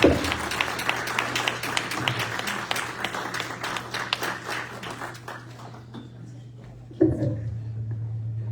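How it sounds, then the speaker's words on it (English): Audience applause at a county bar campaign event, a dense wash of many hands clapping that gradually thins and fades, with a steady low hum underneath and a brief bump of noise near the end. "Give her another round of applause."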